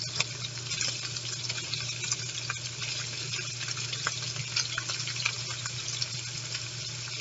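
Shrimp fry in a thin layer of bacon grease in a pan, giving a steady, close crackling sizzle with small pops and no talking.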